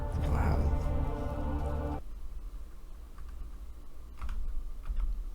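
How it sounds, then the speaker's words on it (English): Rapid keyboard typing clatters loudly at first under a steady hum during an Amnesia custom story, then drops to a quieter, busier rattle with bursts of clicking near the end. "Why is the keyboard shitting itself?"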